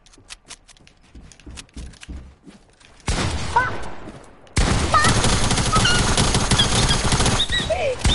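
Gunfire in the video game Fortnite: scattered sharp shots at first, then dense sustained bursts of rapid firing that grow loud and continuous, with no talk.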